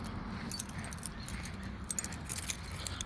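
A set of keys, taken from near a house mailbox, jangles in a few quick metallic clusters of light chiming rattles against quiet background hum, close by and with no speech.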